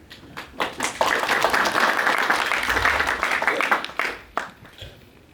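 A room of people applauds students at an event, a dense run of clapping rising after a second and tapering off near the end, with some talk mixed in.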